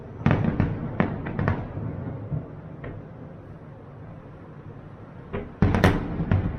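Fireworks show over Oahu with a string of sharp bursts and crackling pops, a quieter stretch in the middle, then a fresh volley of loud bangs close by.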